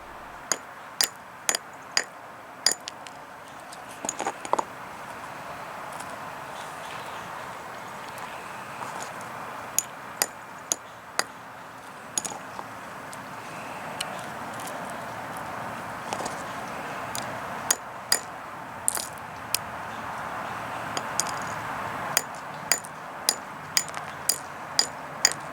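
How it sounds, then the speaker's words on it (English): Emerald crystals are struck with a hammer, giving many sharp, bright clicks and knocks at irregular intervals over a soft, steady background hiss, quiet and close. "This concludes breaking emeralds with a hammer."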